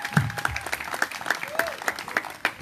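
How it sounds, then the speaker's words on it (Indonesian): A crowd at a simple religious concert claps in a steady, even beat, each clap sharp and regular, while a sustained tone sounds faintly behind it. "Ayo tepuk tangan dulu dong."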